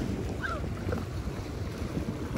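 Steady wind and sea wash at a coastal estuary near Hòn Rớ port, a continuous broad rush buffeting the microphone, with a faint high call briefly rising above it.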